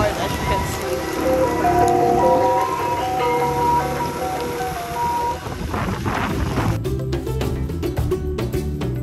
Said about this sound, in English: But this rain is again insane. It's raining.